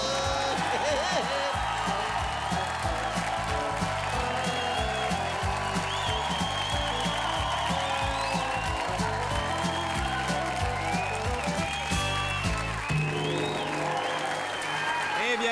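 Studio audience applause greets a French satirical comedy show, a dense steady wash of clapping running the whole stretch, loud and continuous, with music-like tonal bands underneath and a brief dip near the end.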